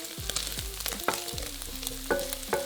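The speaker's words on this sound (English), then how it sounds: "So add the pancetta to the pan and fry, stirring a few times until it's nice and crisp." Pancetta fries in a pan while being stirred, giving a steady close sizzle broken by several sharp scrapes and knocks of the utensil against the pan.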